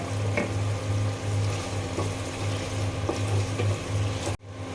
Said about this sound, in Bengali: সব মশলা একসঙ্গে তেলের সঙ্গে ভালো করে কষিয়ে নেব